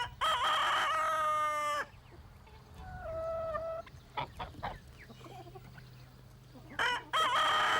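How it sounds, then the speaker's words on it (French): A rooster crows loudly and close on a farm at morning, two full cock-a-doodle-doo calls at the start and end, with softer clucks and squawks from hens between, over quiet background. "Tous les matins, la basse-cour se réveille avec le chant du coq."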